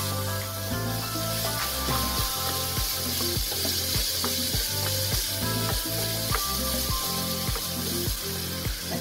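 Potatoes and ground pork fry together in a pan for empanada filling, giving a constant bright sizzle that holds throughout under a pulsing music track.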